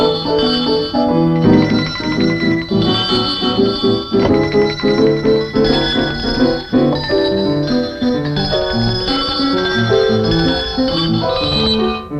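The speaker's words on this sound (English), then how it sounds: "Oh, now hear my bells." Bright, layered ringing of many tuned bells played as a continuous melody, loud and close with no talking.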